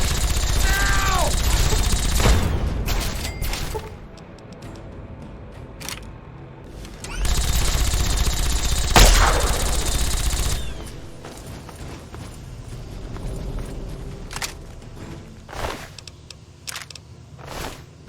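Gunfire in a Fallout 3 firefight, bursts of rapid shots and mechanical clatter in loud clusters separated by quieter stretches, close and harsh.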